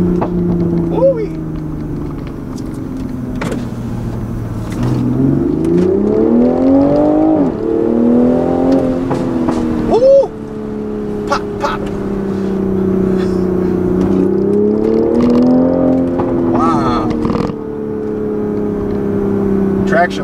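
A 2020 Toyota GR Supra accelerates hard in second gear, its engine note climbing loudly in rising sweeps with a brief dip at a shift, heard from inside the car.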